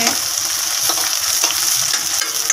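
Loud, steady sizzling of green chillies, dried red chillies, onion and bay leaves frying in hot oil, close and continuous, with faint occasional stirring.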